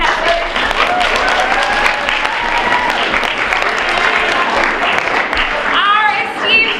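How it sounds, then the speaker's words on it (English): Loud, steady applause from a school class audience for student contestants at a Shakespeare recitation event, dense clapping filling the whole stretch with cheers and whoops rising near the end. "one more huge round of applause for all of our contestants"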